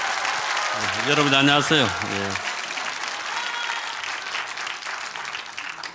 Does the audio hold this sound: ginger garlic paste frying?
no